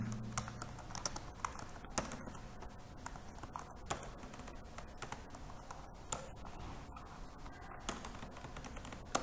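Steady, fast typing on a computer keyboard fills the whole stretch, with dense key clicks and occasional louder strokes close to the microphone.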